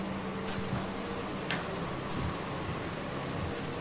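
A spray gun lays a clear coat over a purple candy-tone paint job on a Kawasaki Ninja RR motorcycle body, giving a steady, loud, close hiss with brief pauses as the trigger is released.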